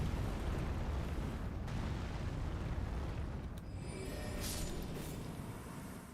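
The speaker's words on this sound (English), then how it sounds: "It starts like everything starts exploding." Rumbling blasts and eruptions as enemies explode in the video game Elden Ring, a dense continuous roar of low booms holding steady and loud throughout, with a few brighter bursts near the end.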